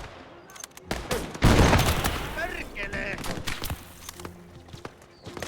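Soldiers firing in the video game Gates of Hell, a burst of volleyed gunshots and scattered rifle cracks with a dense loud barrage in the middle, while players talk over it.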